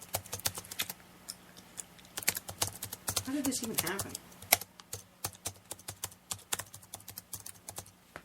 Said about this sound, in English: You can probably hear the keyboard again.